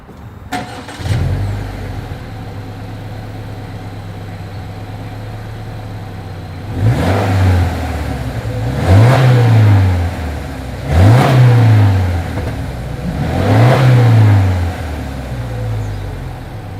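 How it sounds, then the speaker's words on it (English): A twin-turbo 300 hp Subaru Legacy B4 STi engine starts, settles to a rumbling idle, then revs hard four times in a row, each rise and fall of the exhaust loud and close. "As always, here is that exhaust clip."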